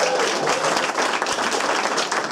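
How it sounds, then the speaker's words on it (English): A live audience gives Seth another round of applause, a thick, continuous burst of clapping from many hands that holds strong for a couple of seconds. "Let's give another round of applause for Seth"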